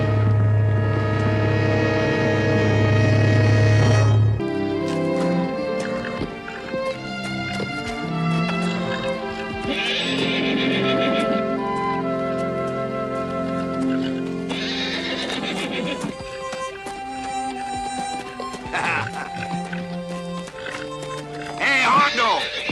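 A horse in a Western setting whinnies loudly, followed by steady clip-clop of hooves mixed with swelling orchestral music and brief speech.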